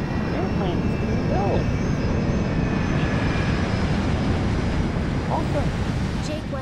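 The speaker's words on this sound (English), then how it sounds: "Oh, look. Airplanes." Aircraft flying overhead in the Resident Evil 6 ending sequence, a steady, loud broadband engine roar that holds unchanged throughout, with faint higher whines drifting above it.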